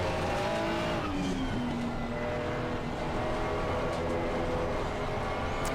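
A Ferrari 296 race car in a racing video game at Barcelona: a loud, steady engine drone with shifting pitch and tire squeal, continuous and close, with no talking.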